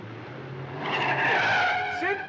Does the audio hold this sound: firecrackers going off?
no